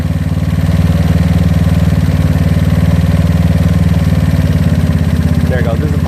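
A GY6 scooter engine fitted with an OKO PWK 30mm carburetor and decompression tube idles with a fast, even putter, loud and close, while someone talks over it.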